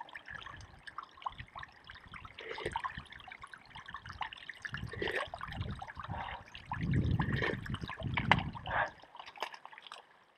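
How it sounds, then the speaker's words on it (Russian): Meltwater stream trickling from an ancient glacier near Anchorage, a soft, irregular burble and splash of running water that grows somewhat fuller toward the end, heard close and fairly faint. "Тут такой что-то ручеек. Тысячелетнего ледника."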